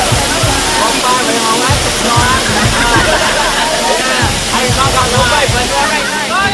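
The Jagir waterfall in Banyuwangi roars continuously, a dense, loud rush of falling water splashing and churning close by, with faint voices mixed into the steady wash.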